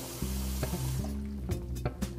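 Tap water runs into a black-and-white film developing tank, a soft, steady filling sound with a low hum, broken by a few faint knocks and splashes.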